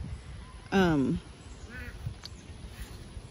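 A duck lets out one loud, harsh quack close by, followed by a fainter, shorter call, with quiet outdoor background on a morning.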